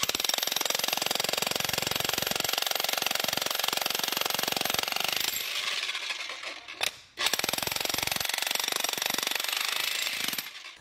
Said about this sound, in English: So I'm going to go ahead and get this jackhammer revved up,